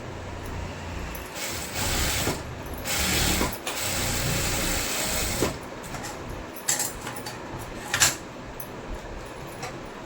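Close mechanical clicking and ratcheting from a sewing machine stitching the sleeve of a blouse, coming in short uneven bursts with small sharp knocks over a low background hum.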